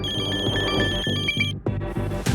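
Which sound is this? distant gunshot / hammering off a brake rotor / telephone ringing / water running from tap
telephone ringing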